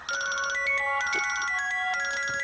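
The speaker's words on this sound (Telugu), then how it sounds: "అర్ధరాత్రి పూట ఫోన్ ఏంట్రా?" A phone ringtone plays loud and close in a movie scene at midnight, a bright repeating electronic melody with clipped tonal notes running continuously, no speech over it.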